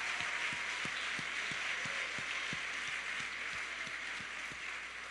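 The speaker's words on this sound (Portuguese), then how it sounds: "E quem tem uma família vitoriosa aqui, pode aplaudir ao Senhor." A church congregation claps, with a steady run of evenly spaced rhythmic claps standing out over a dense, constant crowd wash.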